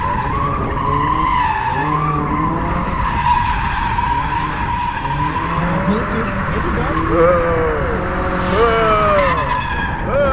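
A Toyota GR86 fitted with a GKTech angle kit drifts on the street, tires skidding and squealing in long wavering howls over a loud, steady engine roar, with voices talking at times.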